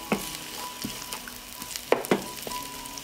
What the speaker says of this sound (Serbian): Dodajem seckanu slaninicu i nju ću propržiti.